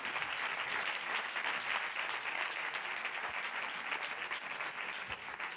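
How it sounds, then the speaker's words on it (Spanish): Audience applause at the closing awards gala of a film festival: dense, continuous clapping from a large crowd filling the room, steady and unbroken for several seconds. "Fuerte el aplauso para Nach Solís."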